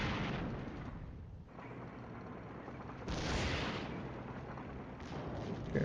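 Gunfire in the Flashpoint Campaigns Southern Storm wargame comes as heavy, dense bursts of shooting and booming artillery, with a sustained rumble between the louder volleys.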